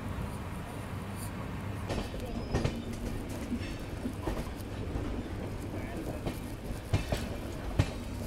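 Onboard a Jan Shatabdi Express train running through Haryana toward Rewari Junction: constant rolling rumble with occasional wheel clacks and knocks, close and steady throughout.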